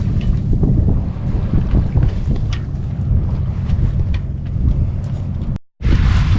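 Wind buffets the microphone as a heeled sailboat cuts through waves off Mount Desert Island, Maine, a steady rushing wash with gusty bursts, briefly dropping out near the end.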